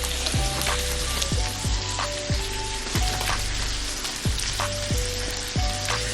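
Chopped beef sizzles steadily in a skillet as cheese melts on it, a continuous close frying crackle with repeated soft scraping stirs of a spatula against the pan throughout.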